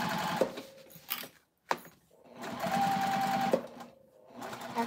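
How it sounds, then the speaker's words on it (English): A sewing machine top stitching a pocket closed runs in close, steady bursts of stitching, broken by a short pause and a couple of sharp clicks before it starts stitching again. "Just top stitching, and then needle down, pivot, and just sew everything together closed."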